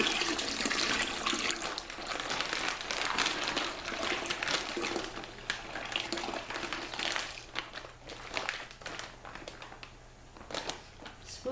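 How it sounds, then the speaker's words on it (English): Warm water runs and splashes over a sink as a homebrew wine bag is rinsed out, a steady close rush of pouring and trickling liquid with no talk. "now I'm going to rinse this bag out with some warm water"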